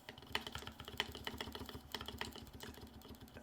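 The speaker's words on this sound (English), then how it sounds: "Like the enter key, the stabs sound pretty decent." Keys on an EC (electro-capacitive) board mechanical keyboard are pressed in a quick, uneven run of close, crisp clacks with a few deeper thocks. No voices are heard.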